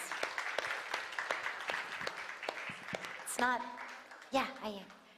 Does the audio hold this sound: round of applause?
yes